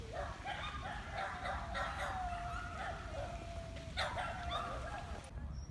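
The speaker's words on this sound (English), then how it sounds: "Somewhere there's a dog." A dog barks and yips somewhere in the distance, thin and intermittent, over a steady low rumble of outdoor background noise.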